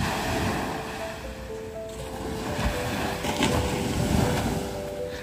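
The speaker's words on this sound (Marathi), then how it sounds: "आता हा जो लाटांचा आवाज आहे फक्त ऐका" Sea waves wash onto Sagareshwar beach in Vengurla on the Konkan coast on a cool morning, a continuous surging rush with a faint steady hum underneath.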